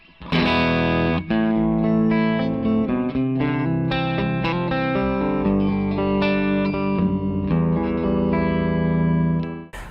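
Electric guitar played through an amplifier with its clean channel, strummed chords ringing loud and sustained with a bright, lightly effected tone.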